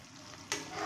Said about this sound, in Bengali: খুব সুন্দর ভাজা হয়ে গেছে।